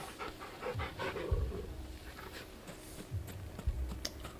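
Torgal, a dog in the video game Final Fantasy XVI, pants in quick rhythmic breaths, close and moderately loud, with soft clicking taps alongside and no talking.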